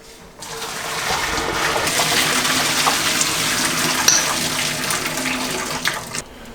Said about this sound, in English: Then we go ahead and drain the pasta.